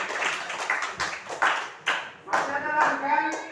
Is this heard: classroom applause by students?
yes